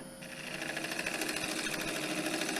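A cherry branch spins on a wood lathe while a fine cut runs down its length, throwing shavings. The cut makes a quiet, rapid, rhythmic chattering whir for a couple of seconds, with no talking.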